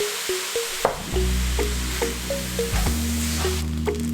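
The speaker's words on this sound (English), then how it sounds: "I'm going to add in 1 tablespoon of soy sauce and stir that through." Fried rice with soy sauce being stirred in a hot wok, a constant loud sizzle with repeated spatula scrapes and taps against the metal, close and without speech.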